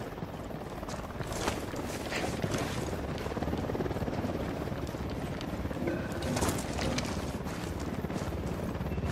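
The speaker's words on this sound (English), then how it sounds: "Chopper's approaching." Helicopter approaching in the video game Ghost Recon, a steady dense rotor roar filling the scene at constant loudness, with scattered higher game effects layered over it.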